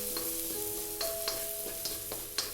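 Garlic sizzling steadily in hot oil for goat stew, a constant close fry hiss broken by a few soft clinks of a stirring utensil against the pan.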